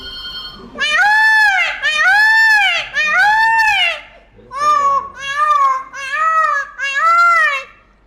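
A voice imitates a peacock's call with a series of loud, nasal, wailing cries in two bursts, close and strong, with brief breaks between.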